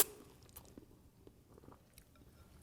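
Soft, close chewing and biting of crab ramen, with faint intermittent squishy crunches at low volume and no talk.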